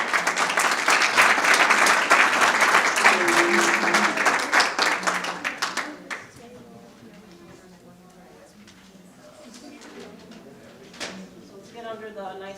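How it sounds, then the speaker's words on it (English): Audience at a school awards presentation for outstanding students of the month clapping loudly and continuously for about six seconds, then the applause stops abruptly and quiet talk follows. "once again, a round of applause for our nominees."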